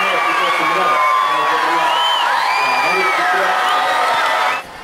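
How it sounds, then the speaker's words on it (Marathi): Schoolchildren cheer at a football event: a loud, sustained crowd roar with whoops and high shouts that runs for several seconds and then cuts off abruptly. "तसा मुलांनी एकच जल्लोष केला।"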